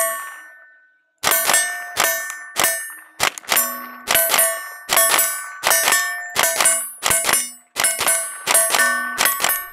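Ruger 10/22 Takedown rifle firing at steel targets, a run of about a dozen sharp ringing pings with long metallic decay, spaced irregularly and loud, no talk.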